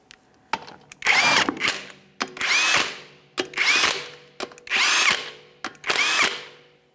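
An impact power tool running 22mm lug nuts onto a front wheel of a 2007-2013 Acura MDX, six loud close bursts of whirring, each about half a second long, separated by short clicks and brief pauses.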